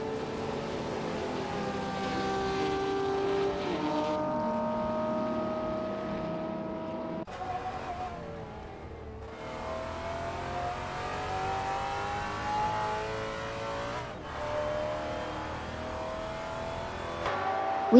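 Race cars lapping in a Le Mans endurance race, engines droning and revving in long overlapping passes with shifting pitch, one car fading as another sweeps in, steady and fairly loud with no voices.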